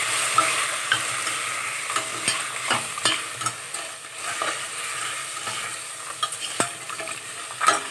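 Shrimp frying in hot oil for a seafood soup, a continuous crackling sizzle broken by frequent stirring scrapes and clicks of a utensil against the pot, close and without speech.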